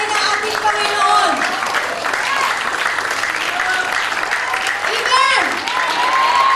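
Church congregation applauding during a sermon, a steady wash of clapping that runs throughout, mixed with voices and whoops from the crowd.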